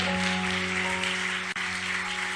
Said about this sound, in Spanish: Vamos, dale palmas y alabanza al Espíritu Santo.